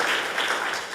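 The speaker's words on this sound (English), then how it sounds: "That deserves some applause" Audience applause at a policy conference fills the moment, a dense, steady wash of clapping at close range that holds evenly throughout the brief second.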